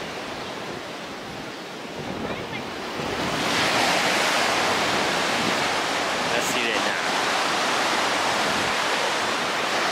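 Steady broadband surf noise from beach waves in Maceió, Brazil, swelling louder partway through, with wind buffeting the microphone and a brief spoken phrase near the start.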